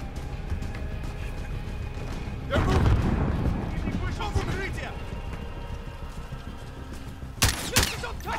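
Gunfire crackles in Call of Duty: Modern Warfare, a heavy burst of shots near the middle and another sharp volley near the end, over a continuous din of battle with voices talking throughout.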